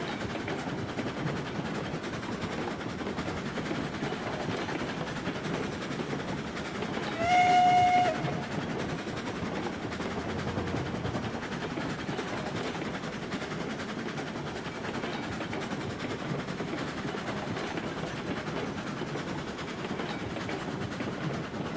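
A train in Railroads Online rumbles steadily with a rhythmic clatter of wheels, and a short whistle sounds partway through.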